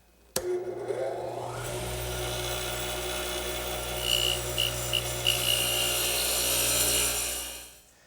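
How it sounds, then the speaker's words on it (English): A radial arm saw fitted with a dado head cutter runs steadily through wood to cut tenons, giving a continuous loud whine and grind that starts abruptly, holds for several seconds and fades at the end. "to cut the tenons, I'm going to use my radial arm with the dado head cutter as before."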